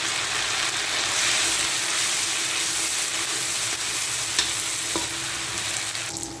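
Green chillies and curry leaves fry in hot oil with ginger paste for a tilapia masala, a loud, steady sizzle and hiss with a few stirring taps near the end.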